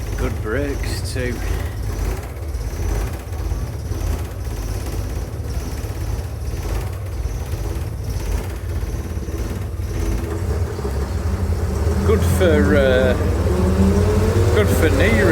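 Vintage Daimler Fleetline or Crossley double-decker bus heard from inside while riding, a steady low engine drone and rumble throughout, growing slightly louder and harsher near the end as the engine works harder, with voices talking over it.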